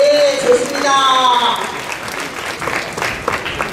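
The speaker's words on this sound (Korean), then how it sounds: "박수!" Short burst of clapping from an audience of soldiers at an army entertainment show, loud and brisk, overlapping the end of a bright tonal sound and chatter.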